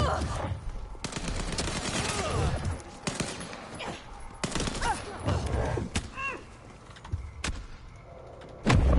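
Gunfire in Vampire: The Masquerade - Bloodlines 2, a string of loud close shots and volleys with clanks and thuds between them.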